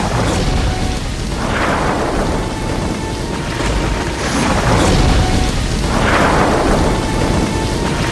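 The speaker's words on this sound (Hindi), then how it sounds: "सात दिनों तक लगातार मूसलाधार बारिश हुई।" A torrential rain and thunder effect in a Govardhan Leela stage play: loud, steady rain hisses throughout while two big thunder rolls swell and fade, one early and one later.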